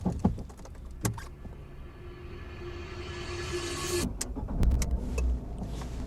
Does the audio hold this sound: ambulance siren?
no